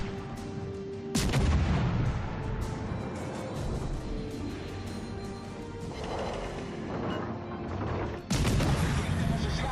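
Naval gunfire from destroyers in World of Warships Legends, loud booming salvos at intervals over continuous rumbling battle noise, with a brief voice heard underneath.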